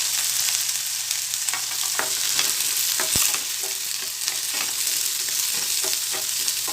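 Garlic, onion and green chillies sauté in a hot pan with a continuous close sizzle, broken by scattered scrapes and taps of a spoon stirring, and no voices.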